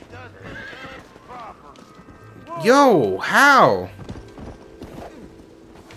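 Horses in a video game give two loud, close whinnies in the middle, with light hoof clip-clop around them while a player talks casually over the game sounds.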